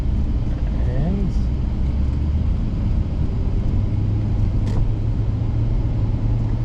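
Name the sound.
2008 Lexus IS-F driving in sport mode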